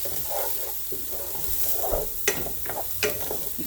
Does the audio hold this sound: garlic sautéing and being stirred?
yes